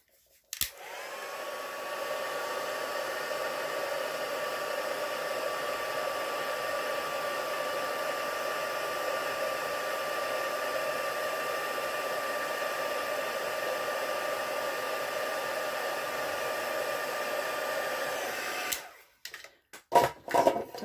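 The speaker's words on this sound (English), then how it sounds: "And then I'm just going to heat set that" An embossing heat tool blows steadily for about eighteen seconds while heat-setting ink on a stamped card in a papercraft session, a loud continuous whirring hiss that starts abruptly, holds even, and cuts off with a few handling clicks.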